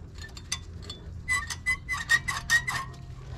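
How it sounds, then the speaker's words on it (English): Front brake caliper being pulled off a 2018 GMC Yukon XL: a run of sharp metallic clinks and ticks, several in quick succession, close and fairly loud against a quiet background. "Okay, now we can pull the caliper off."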